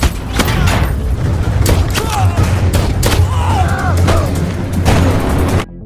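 Gunfire from a police assault launched from the air against an armed mafia gang in an action film shootout, with dense, continuous bursts and booms layered under a busy cinematic soundtrack throughout.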